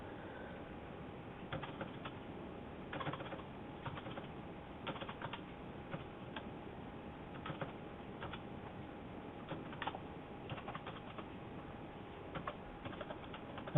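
Typing on a computer keyboard while setting up servers, with faint, irregular key clicks in scattered bursts, alone against a quiet low background hum.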